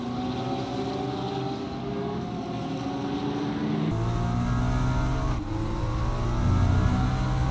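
Onboard engine of a Ferrari race car at the Nürburgring in RaceRoom racing game, a steady loud drone with harmonic tones that drop and rise through gear changes, building slightly louder toward the end.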